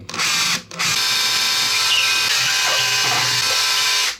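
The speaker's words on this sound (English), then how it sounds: "if you're going into plasterboard, it's always a good idea just to drill a little pilot hole first." A power drill bores a small pilot hole into plasterboard for hanging a radiator, a loud steady whirring grind with one brief pause near the start, close and alone.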